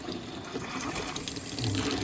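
Hot water runs steadily from a tap into an RV kitchen sink during winterizing, a soft continuous gush that is faint and even for about two seconds, with no voices.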